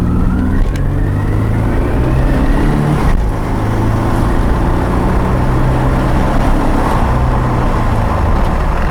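A black Subaru WRX pulls hard from a traffic light, its engine note loud and close inside the car, rising through the gears with brief dips at shifts.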